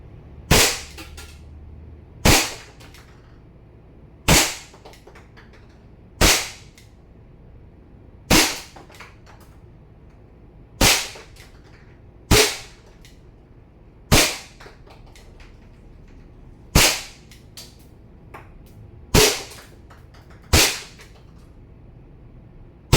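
A WE 1911 MEU airsoft gas pistol fires twelve sharp, loud single shots at a target. The cracks come at a slow, fairly even pace about two seconds apart, with no talk.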